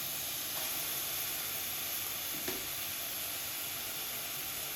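Mutton roasts in chili and garlic masala in a hot pan, giving a steady, even hiss and sizzle throughout, with a faint clink partway through and no talking.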